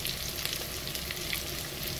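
Shrimp sautéing with mushrooms for a spinach and mushroom dish, giving a steady, close, continuous sizzle and crackle from the pan with no talking over it.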